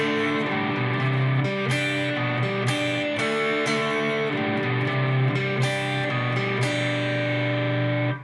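Electric guitar with heavy distortion runs an outro riff twice through at full tempo, loud and continuous with punchy chord stabs, ending in a ringing tail.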